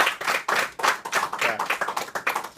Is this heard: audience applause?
yes